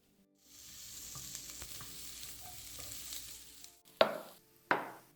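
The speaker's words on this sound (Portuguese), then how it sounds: "Agora eu vou fritar." Calabresa sausage fries in a pan, a steady soft sizzle after a quiet start, ending with two louder sharp bursts of spattering or stirring.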